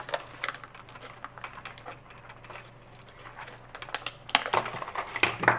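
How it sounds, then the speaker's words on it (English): Packaging for a computer part, a Crucial 8GB memory module, is handled and opened with light crinkly plastic and cardboard clicks and rustles, scattered taps that grow louder and busier toward the end, close to the listener with no voice. "Packaging is hard to deal with."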